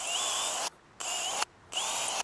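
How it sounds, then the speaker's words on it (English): A power drill with a 3/16 inch bit pre-drills screw holes in a wooden shovel handle. It gives three short, fairly quiet high-pitched whirring bursts separated by brief pauses, with no talk. "I'm just using a 3/16 of an inch drill bit to actually pre-drill these"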